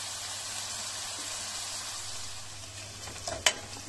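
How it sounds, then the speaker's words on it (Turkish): Onions frying gently in a pan for a Turkish radish-greens dish, a steady soft sizzle throughout, ending with a brief clatter of a utensil. "Soğanlarımızı hafiften pembeleşene kadar pişiriyoruz."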